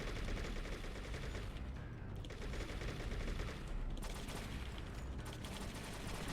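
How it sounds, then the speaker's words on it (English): Sustained automatic AK rifle fire in the game True Crime: New York City, dense bursts of shots running almost continuously, loud and close with brief dips between volleys. "So we'll do that using our trusty AK."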